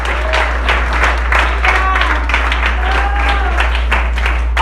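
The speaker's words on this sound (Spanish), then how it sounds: "Si vas a aplaudir, aplaude en esta mañana en el nombre de Jesús." Church congregation clapping together during a Sunday morning sermon, a dense, steady wash of applause that stays loud throughout, with a few voices mixed in.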